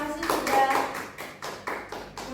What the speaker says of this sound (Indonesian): untuk itunya tepuk tangan buat kelompok 1